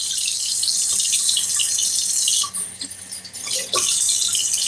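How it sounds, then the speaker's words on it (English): Hot water runs from a kitchen tap into a sink in a loud, steady hiss. The flow is briefly interrupted midway with a few splashes and clunks before the stream resumes, and no one speaks. "I like to go over my sink with like scorching hot water first"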